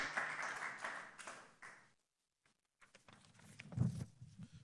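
A church congregation claps and cheers, a burst of applause that fades to near silence, then picks up again with scattered clapping and voices.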